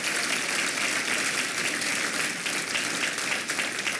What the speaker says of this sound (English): Can we have one more round of applause for our 3 scholarship recipients?